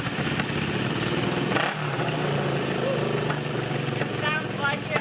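A Honda CB360 motorcycle engine runs on two cylinders with a rough, uneven idle, nearby and loud, broken by a few sharp pops from one side backfiring.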